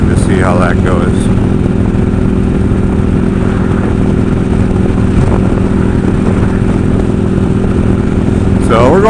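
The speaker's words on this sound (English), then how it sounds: "I can definitely hear the wind kind of beating against the helmet" Strong wind rushes and buffets against a motorcycle helmet at about 60 while riding, a loud, constant roar with engine drone beneath and faint voice fragments at the start and end.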